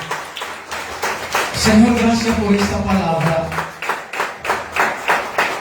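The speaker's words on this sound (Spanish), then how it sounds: "denle un aplauso al Señor" Church congregation applauding at a Spanish-language service, scattered claps running under a man's prayerful speech and sustained voices, moderately loud throughout.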